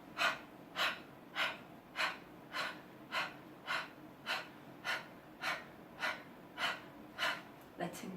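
Deep breathing during a guided chakra movement exercise: slow, regular inhales and exhales about every half second to second, soft and close, repeating steadily throughout.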